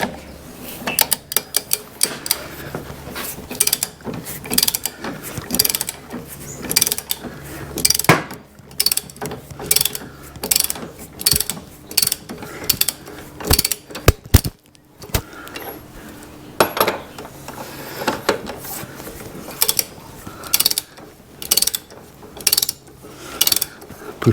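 A ratcheting socket wrench works on a Vespa GTS scooter, with rapid clicking bursts repeating in an uneven rhythm, close and clear, broken by brief pauses and metallic clanks.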